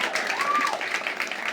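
A crowd of visiting students applauds at a sustainable-cities event, a dense, steady wash of clapping under a voice that briefly rises through it.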